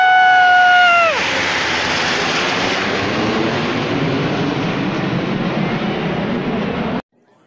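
An aircraft roars past at a Canada Day air show. Its engine whine drops sharply in pitch as it passes close by, and a loud, broad rushing roar holds steady before cutting off abruptly.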